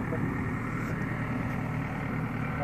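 A Case JX95 tractor engine runs with a steady low diesel drone, close and continuous throughout, in a village setting while hauling animal manure.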